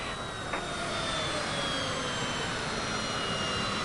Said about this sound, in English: Cleared for takeoff runway 25.